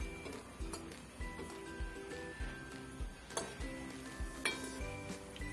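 Paneer gulab jamun fry in a pan of oil while a spoon keeps turning them, producing regular soft knocks and scrapes against the pan under a faint sizzle.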